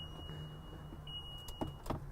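A steady, thin electronic warning tone drones inside a 2022 Antero Adventure Van, the seat-swivel alarm sounding continuously beneath a low cabin hum, with a couple of soft clicks near the end.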